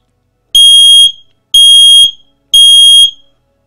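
An X-Sense Wi-Fi smoke alarm, triggered with its test button, blares three loud, piercing beeps, each about half a second long, evenly spaced with silence between.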